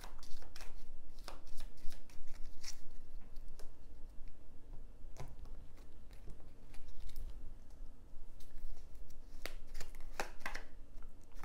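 Oracle cards being shuffled and drawn, a steady papery riffle and flutter with sharp flicks and snaps of single cards, fairly close and quiet, no voices.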